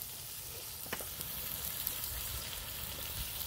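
Potatoes and cauliflower sizzle in hot oil in a pan while being stirred, with a constant close frying hiss and a few soft scrapes of the spoon, no talking.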